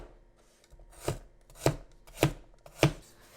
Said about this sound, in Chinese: 再准备1把大蒜，切片